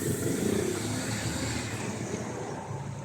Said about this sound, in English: There is a bus there, so excuse the noise.